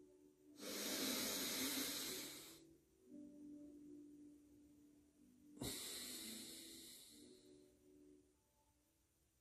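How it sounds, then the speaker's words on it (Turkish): Two deep breaths during a guided concentration exercise, each a loud close airy rush lasting about two seconds, separated by quieter pauses with faint background hum. "Bir tane daha büyük nefes alın."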